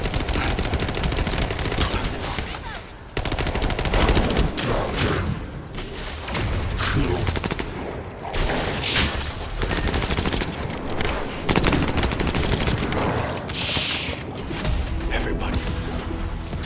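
Dense, sustained gunfire in the video game The First Descendant, loud continuous bursts with crashes and mechanical clatter, while voices shout over the din.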